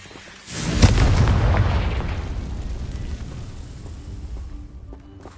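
Confringo, the blasting spell in Hogwarts Legacy, lands with a sudden sharp boom, then a heavy rumbling roar that fades gradually over several seconds, with no talking.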